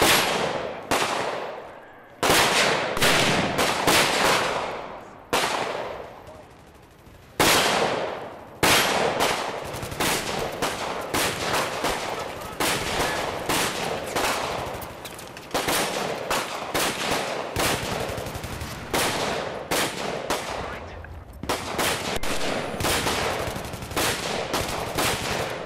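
An AUG A3 bullpup rifle fires in Battlefield 3 close-quarters combat: loud, rapid automatic bursts crackle one after another with short pauses and ringing decay, filling the whole stretch without any speech.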